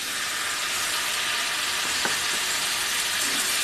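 Cashews, two green chillies and tomatoes frying in a kadai for kadai paneer, an even, hissing sizzle held throughout with a faint stirring scrape midway.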